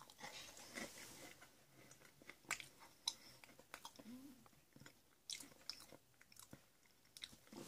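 Close-up crunching and biting of Hello Panda chocolate biscuits, limited edition, with faint, irregular crisp crunches and soft mouth sounds, mostly alone with only a little background.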